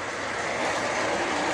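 A model train runs past on a miniature railway layout with a station, water tower and town, giving a steady rolling rumble that holds close and even, growing slightly louder toward the end.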